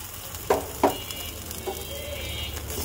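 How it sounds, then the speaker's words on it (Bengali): Frozen, parboiled taro leaves (kochu shak) going into sizzling spice paste, with a couple of sharp clattering knocks followed by a soft steady frying hiss at moderate volume. "এখন আমি দিয়ে দেব ফ্রোজেন করে রেখেছিলাম আমি কচু শাকটা"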